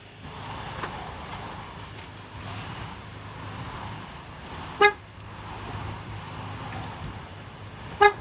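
Two short car horn chirps from a Nissan Rogue key fob lock sound a few seconds apart over low outdoor rumble and faint background noise.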